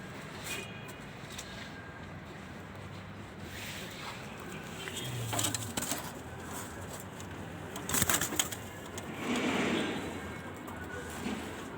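Pigeons in a loft in Alexandria, heard as faint soft coos and brief flutters of wings over a quiet room hum, with light handling noises and no clear talk.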